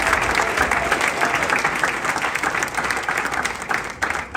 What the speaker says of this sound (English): Round of applause for Gumbo, please.